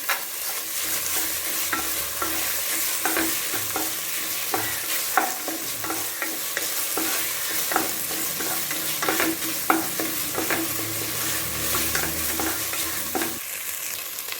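Cashews fry in ghee in a pan for ghee rice, giving a steady close sizzle broken by sharp scraping clicks from a stirring spoon, with no voices.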